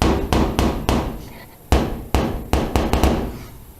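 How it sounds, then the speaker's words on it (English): Top layer of a 1962 Cadillac hood tapping against the bracing underneath, a series of sharp, close metallic knocks in an uneven rhythm, about ten hits. "that's the top, this top layer hitting the bracing underneath"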